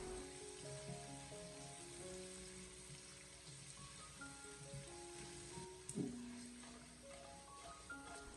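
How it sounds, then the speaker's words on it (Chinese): Pork belly stir-fried in a wok over low heat with garlic and chili, giving a soft steady sizzle and crackle with an occasional scrape or clatter of stirring, fairly faint and with no talking. "然后再继续的将它小火翻炒一会，将它翻炒均匀，把五花肉翻炒出蒜香味还有辣味"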